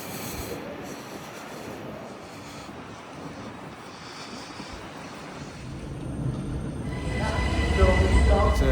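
Train noise at a Vienna station platform while waiting for an S7 S-Bahn service: a steady rumble that swells louder over the final seconds as a train draws in, with no talk.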